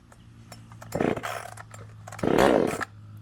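An IETO 12-inch 2500 chainsaw with its choke pulled is started, giving two rough, close pull-start bursts, the second longer and louder, over a low steady hum.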